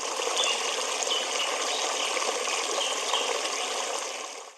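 Babaleo white noise machine playing its stream setting, a steady broadband rush of flowing water that holds at even loudness throughout and stays alone without any voices.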